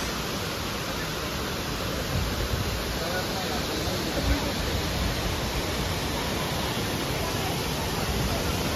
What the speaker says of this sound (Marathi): हा वॉटरफॉल बघा गाईज.